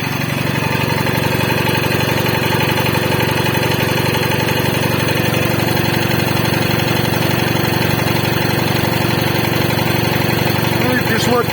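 A homemade air compressor kicks on at about 5 atmospheres of pressure and runs with a loud, steady mechanical drone throughout, a constant engine-like hum with no pauses.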